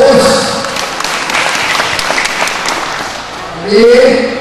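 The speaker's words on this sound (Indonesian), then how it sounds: "Tepuk tangan untuk Bang Us." A crowd at a political campaign event in a futsal hall claps, a scattered burst of applause that thins out, while voices talk over it at the start and again near the end.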